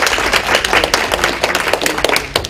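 Church audience at a community gathering in a hospital setting claps together, a steady dense patter of hands filling the moment without pause, fairly close and moderately loud.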